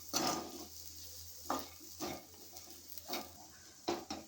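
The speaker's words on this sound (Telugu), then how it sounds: "1 నిమిషం పాటు ఇలానే వేయించుకుందాము." Raw banana fry with coriander powder and cumin powder being stirred in a pan, with soft scraping and clinks of a spoon against the pan in several irregular bursts over a faint background hiss.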